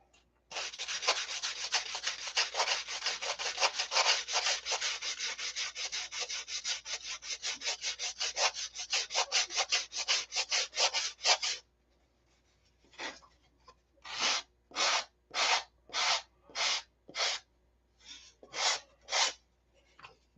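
A balsa wood rib is sanded by hand in long, rapid rasping strokes for about ten seconds, then in slower, separate strokes after a short pause. It is close and crisp, with no talking.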